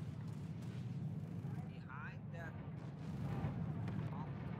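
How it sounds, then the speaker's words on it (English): Orbital strike explosions rumble in PlanetSide 2, a steady low booming roar with sustained distant blasts under a speaking voice. "Oh, that orbital strike is back."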